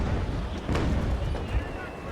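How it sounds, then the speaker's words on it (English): Ship chase guns in the Naval Action video game fire a couple of dull, booming blasts with a rough rumble under them, heard over steady sea and wind noise. "let's fire a couple of chase guns at her"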